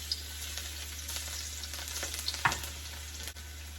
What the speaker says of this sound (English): Stir back and forth a little bit